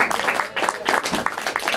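An audience bursts into brief, lively applause for a new father at a comedy show, a dense patter of many hands clapping close by with no speech over it.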